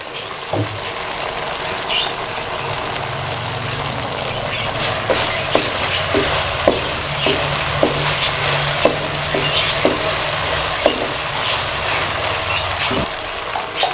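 Tomatoes dropped into a pan of frying vegetable yakhni pulao, giving a steady close sizzle with repeated scraping stirs of a spoon throughout, no talking.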